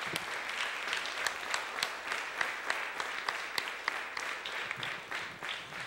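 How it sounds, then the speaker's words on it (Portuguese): A church congregation applauds during a Sunday service, a fairly faint, distant wash of many clapping hands with a few sharper individual claps standing out. "Mais uma salva de palmas ao Senhor Jesus Cristo."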